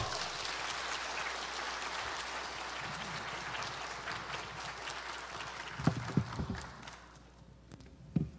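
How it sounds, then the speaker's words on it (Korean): Church revival congregation clapping to welcome a visiting pastor, a soft, distant patter of applause that thins out toward the end, with a few louder knocks and bumps near the close. "나오실 때 뜨겁게 박수로 환영합니다"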